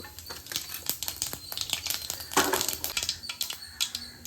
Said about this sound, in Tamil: இப்போ கடுகுலாம் பொரிஞ்சிச்சுப்பா.